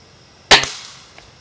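A single sharp air rifle shot aimed at a can outdoors, close and crisp, followed by a faint ringing tail and a small distant tick.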